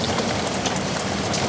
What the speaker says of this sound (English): So let's just hear this rain.